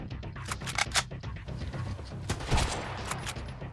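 A few scattered gunshots in the survival game Sunkenland, sharp cracks spread over a few seconds among mechanical clicks and background game noise.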